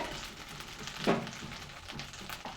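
Ginger and garlic sauté in a pan with a soft, steady sizzle, while one brief stirring scrape stands out midway; the sound is quiet and close.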